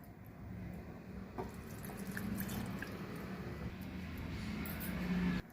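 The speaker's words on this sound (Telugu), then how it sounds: "కప్పు వాటర్ వేయాలండి" Water poured from a cup into a bowl of tamarind, a steady splashing and trickling stream lasting several seconds with small drips, fairly close and moderately loud, no talk.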